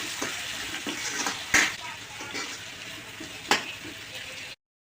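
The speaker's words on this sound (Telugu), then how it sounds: "వీటితో పాటు చాప్ చేసుకున్న ఆనియన్స్ కూడా వేసుకుందాం" Chopped onions fry in a pan for chicken masala, a steady close sizzle broken by soft stirring scrapes and two sharper clinks of a utensil against the pan, ending abruptly in silence.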